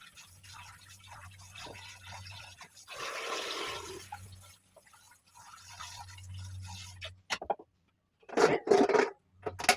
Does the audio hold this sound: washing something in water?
yes